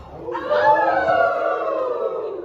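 Audience at a live comedy gig imitating a wolf howl, a crowd of voices rising together into one sustained, loud howl that slowly fades.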